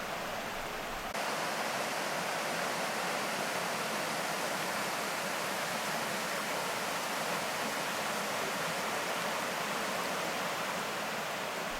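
The Krenides River flows near Philippi, a steady, broad rushing of water that holds an even level throughout, close by and uninterrupted, with no voices.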